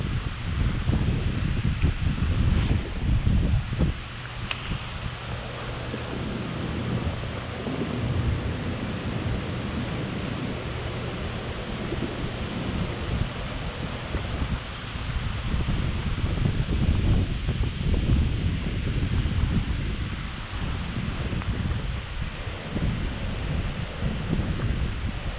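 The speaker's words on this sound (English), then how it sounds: "The wind's kicked up, another notch." Strong wind gusts roar continuously against the microphone on a kayak near Center Hill Dam, with rustling leaves and a low rumbling buffet throughout, no voices.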